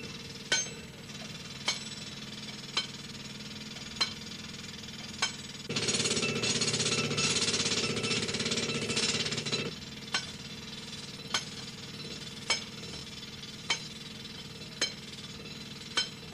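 A miners' pneumatic drill hammers in a loud, rapid burst for about four seconds, framed by sharp, evenly spaced metallic clinks before and after.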